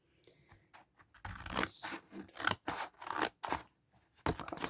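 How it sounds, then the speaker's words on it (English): Scissors cut through a paper plate in a series of crunchy, papery snips of uneven length and spacing, close and clear, with no talking. "I'm going to cut the paper plate in half"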